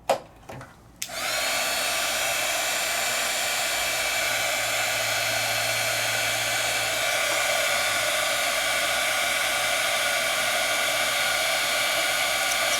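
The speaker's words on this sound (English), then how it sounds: "So I'm just going to heat set." An embossing heat tool heat-setting embossing ink on a card, a brief click and sputter as it starts, then a steady loud hair-dryer-like whir with a whistling tone that runs throughout.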